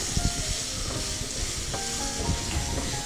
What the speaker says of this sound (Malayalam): അത് നമുക്ക് ഈ കുരുമുളകിലേക്ക് ചേർത്ത് കൊടുക്കാം.